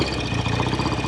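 A 1969 BSA Lightning 650 motorcycle engine idles low and steady, a close, continuous rumbling throb with no talk over it.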